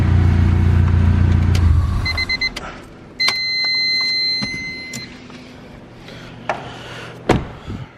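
A Honda Civic with an all-motor engine idles loudly and then cuts off around two seconds in, leaving a quiet garage with faint beeps, clicks and a door-like knock afterward.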